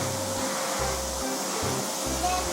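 Spilled potato chips are cleaned up off a home floor, giving a loud, continuous whooshing drone close by with no break and no talking.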